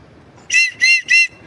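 Three sharp, shrill whistle blasts ring out in quick succession on a mountain trip with friends, each burst loud and close, separated by brief gaps over a faint low background rumble.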